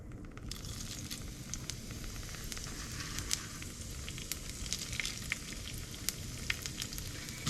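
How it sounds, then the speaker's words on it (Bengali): Panch phoron and a dried red chilli temper in hot oil left from frying prawns, making a constant low sizzle sprinkled with small crackles and pops, close and steady, with no speech. "এবার আমি দেব ফোড়নে একটুখানি পাঁচ ফোড়ন।"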